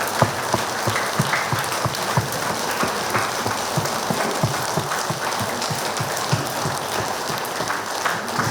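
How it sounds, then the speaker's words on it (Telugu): An audience at a meditation gathering and vegetarian rally claps continuously, with dense, even applause and sharp individual claps sustained throughout without a break. "ఇవాళ నిర్వహించుకున్న శాకాహార ర్యాలీకి బిగ్ క్లాప్స్"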